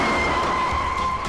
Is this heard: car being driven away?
yes